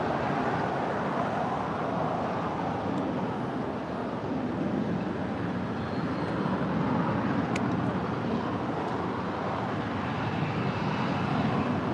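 A Boeing 787 Dreamliner takes off at LAX, heard as a broad, continuous jet roar from some distance that holds steady and loud throughout, with no speech over it.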